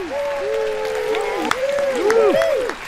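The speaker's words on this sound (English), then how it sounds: "A round of applause" An audience applauds a comedian taking the stage in a comedy show, a steady wash of clapping underneath sliding, whistle-like voices that run over it.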